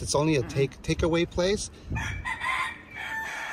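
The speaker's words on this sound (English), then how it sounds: "You heard the rooster in the background." A rooster crows in the background outside a takeaway food spot in Maui, its call rising and falling as a person talks over it nearby.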